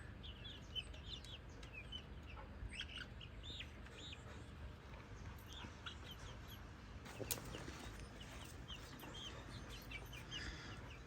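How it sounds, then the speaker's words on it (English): Chickens in a backyard coop, rooster and hens, clucking and calling faintly at a distance over a steady low rumble of background noise, with scattered short chirps throughout. "Who's gonna win the race? A rooster or a hen?"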